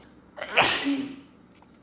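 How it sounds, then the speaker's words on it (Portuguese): A single sharp human sneeze, close and loud, with a quick intake and burst, then quiet afterward. "espirrei"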